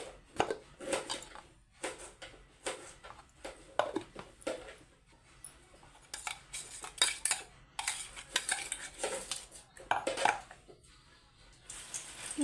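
A spoon stirring rock salt into food in a home kitchen, with repeated soft clinks and scrapes against the dish in an uneven rhythm, fairly quiet and close.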